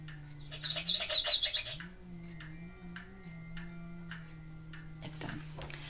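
A pet bird chirps indoors in a quiet room, a short burst of bright twittering followed by faint scattered tweets over a low steady hum.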